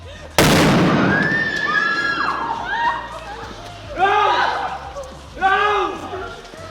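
A test firework goes off at the Platts House fire event with a single sudden, very loud blast that rolls away into a long decay, followed by excited voices and shouting.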